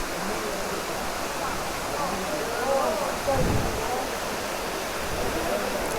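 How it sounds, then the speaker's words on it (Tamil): Kiliyur Falls in Yercaud pours with a steady broadband rush of falling water, near and constant, with a brief swell of louder splashing midway. "this is Kiliyur falls"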